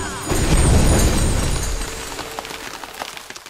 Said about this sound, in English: Let's use Alchemist Fire.